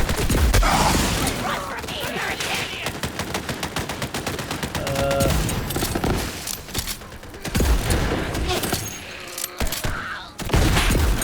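Sustained turret gunfire in Borderlands 3, dense and loud bursts of rapid shots across the whole stretch, with faint voices mixed in under the shooting.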